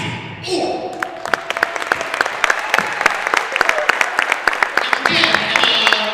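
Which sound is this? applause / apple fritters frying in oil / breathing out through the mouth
applause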